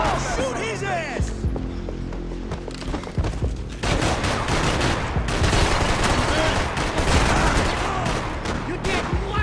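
Rapid bursts of gunfire from the Max Payne 3 video game crackle loudly amid shouting voices and game music, the shooting dense and repeated through most of the passage.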